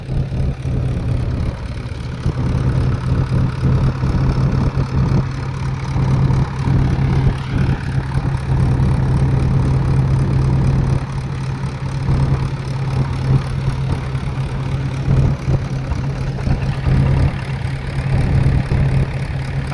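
A tractor engine idling in a farm field during threshing work, a steady low diesel rumble with a constant hum and slight fluctuations in level, loud and close throughout, with no speech.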